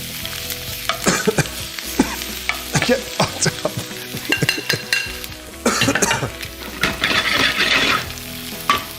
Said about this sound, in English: Now, at this point we need to sear them